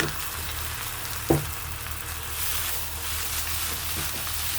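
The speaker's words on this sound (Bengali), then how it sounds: "আমি এখন ভালোভাবে ভেজে নিব" Noodles frying in a pan, a steady hissing sizzle with one sharp knock of a spoon early on and faint stirring later, no one speaking.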